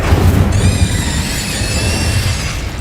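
An Incendio fire spell cast in Hogwarts Legacy, a loud continuous whooshing, crackling roar lasting about two and a half seconds. It starts with a low rumble, and bright shimmering tones ride on top from just after the start.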